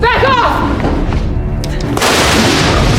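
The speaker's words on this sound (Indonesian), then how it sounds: "melemparinya sebuah tabung gas yang kemudian ia ledakan dengan menembaknya" A sharp gunshot crack as a gas cylinder is shot, followed by its heavy booming explosion, with a burst of noisy debris at the end; a voice is heard briefly at the start.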